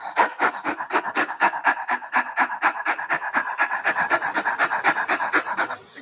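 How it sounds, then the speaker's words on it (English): Rapid, forceful pranayama breathing (kapalabhati-style kriya), a steady train of sharp, loud exhalations and inhalations through the nose at roughly three to four per second, close and continuous for the whole stretch with no talking. "the loud sound which is coming due to rapid exhalation and inhalation"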